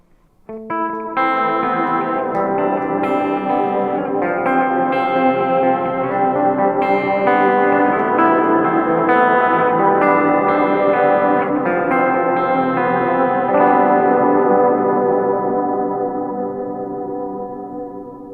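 Electric guitar chords and notes played through a Walrus Audio Lore reverb pedal wash through heavy reverb and echo, swirling and sustaining into a thick, lingering tail that slowly fades out.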